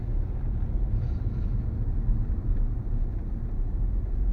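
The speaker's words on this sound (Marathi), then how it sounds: "तिसऱ्या गिअरवरती आपण अशा घाटामध्ये गाडी चालवायची" Car driven in third gear on a winding ghat road, a steady low engine and road rumble with some wind buffeting, continuous and fairly close, no speech.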